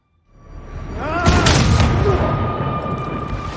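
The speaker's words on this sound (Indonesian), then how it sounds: "Sebuah tembakan dari Rose menyelamatkan Marvin dari percobaan pembunuhan yang dilakukan oleh Alvin." A single loud, close gunshot booms after a short rising whoosh, then rings out with a long rumbling decay.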